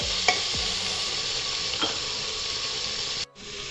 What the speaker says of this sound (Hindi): आलू भी इसमें शामिल किए जा रहे हैं। साथ ही इसमें हम डालेंगे, चम्मच चलाएंगे पहले अच्छे से